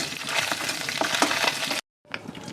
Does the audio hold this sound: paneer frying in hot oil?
yes